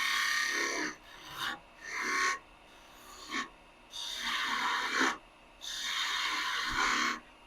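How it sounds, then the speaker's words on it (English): A long-point skew chisel cuts into spinning wood on a lathe while shaping a spurtle, rounding over the end in repeated bursts of rough scraping, several passes of a second or so separated by short pauses, close and moderately loud. "Using the long end of the skew, round this over a bit."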